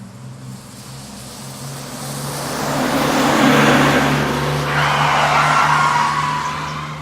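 A car engine is gunned hard as the vehicle swerves to dodge a truck, a loud roar that swells over several seconds with a rising whine, close and alone.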